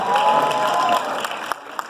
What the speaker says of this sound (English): Round of applause for Collin, everybody.